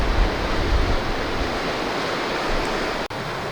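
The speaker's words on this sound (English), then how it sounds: "We could probably stand here all day watching those waves" Ocean waves break and wash along a coastal bay in a steady, loud roar that carries on without pause, with wind buffeting the microphone and a brief drop near the end.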